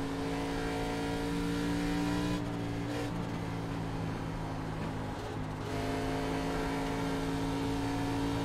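A race car engine in the racing game iRacing drones and revs steadily at close range throughout, with a brief dip midway and a faint voice underneath.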